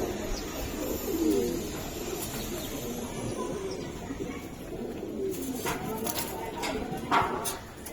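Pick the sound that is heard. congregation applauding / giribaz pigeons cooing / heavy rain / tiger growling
giribaz pigeons cooing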